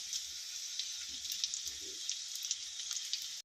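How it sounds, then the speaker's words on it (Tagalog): Unripe bananas (plantains) frying in oil for breakfast at a farm home make a steady, soft crackling sizzle with scattered pops throughout, heard alone and without talk. "prito taghilaw na saging for breakfast."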